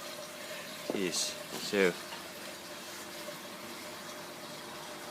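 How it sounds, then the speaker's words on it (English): In an aquaponics tank, water bubbles up through stones from a tube with a soft, steady gurgle. Someone speaks briefly over it. "it is boiling up out of the stones from a tube."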